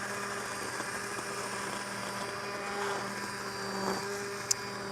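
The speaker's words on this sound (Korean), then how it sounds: "핸드 믹서 사용하셔서 갈아주시고" A handheld immersion mixer purees cooked lentils in hot milk with a steady, quiet, even motor whir and a faint tonal hum, continuous throughout. No speech.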